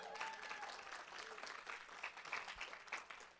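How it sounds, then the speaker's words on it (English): A crowd claps steadily throughout, the applause soft and somewhat distant. "Let's give a clap for my wife, Jordan."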